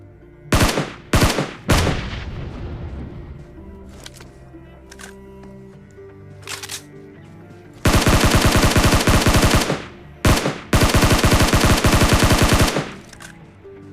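Video game SCAR-L rifle gunfire: a few separate sharp shots early, then two long sustained bursts of rapid automatic fire, loud and close.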